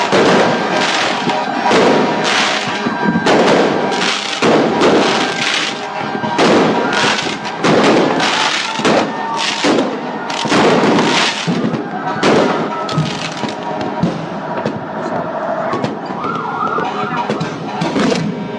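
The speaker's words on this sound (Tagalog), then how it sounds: "So ang fireworks display na ito tatagal." Repeated loud New Year fireworks bursts in Pasig crackle and boom in quick succession, with a siren-like wail rising near the end.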